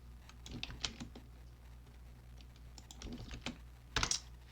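Fast typing on a computer keyboard in a Type Racer game, quick irregular clicks of keys, fairly close and quiet, with a short dense flurry near the end; no speech.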